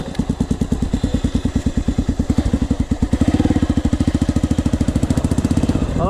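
An off-road motorcycle engine, around a Honda XR 500 dirt bike, runs loud and close, with rapid pulsing firing beats that rise in pitch as it revs and shifts up through the gears.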